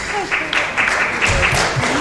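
Applause from an audience at an East African end-of-programme event on growth and economic opportunities for women, a steady two-second patter of clapping with a voice speaking over it.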